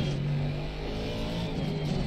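An Aston Martin GT4 race car engine in Assetto Corsa Competizione drones loud and steady, a continuous close engine tone with no talk.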